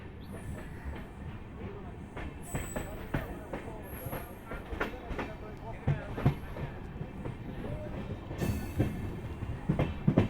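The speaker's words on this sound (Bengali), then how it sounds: "তো চলুন ডিপার্চার দেখুন বর্ধমান থেকে।" Sealdah Ballia Express, a newly LHB-fitted train, pulls out of Bardhaman with rhythmic clickety-clack of wheels and rattling coaches heard from onboard, accompanied by occasional squeals and background voices.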